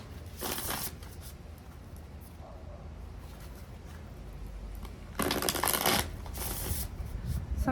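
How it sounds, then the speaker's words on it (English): A deck of playing cards is shuffled by hand in two short riffling bursts, close and crisp, separated by a few quiet seconds. "I'll try to remember to shuffle this time before I stop the video."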